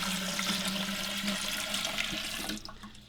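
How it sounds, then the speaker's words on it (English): Water pours steadily into the base of a ZXBEER 9L top-fill ultrasonic humidifier, a continuous close rushing splash lasting about two and a half seconds before tapering off abruptly. "I'm going to go ahead and pour into the base."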